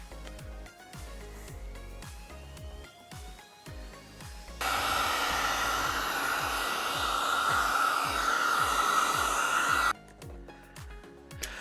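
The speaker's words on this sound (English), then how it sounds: "Having a heat gun or hairdryer is really handy." Hairdryer blowing hot air to warm vinyl on a KTM 390 Enduro R motorcycle outdoors, a steady loud whooshing hiss that starts abruptly and runs for about five seconds before cutting off, with music underneath.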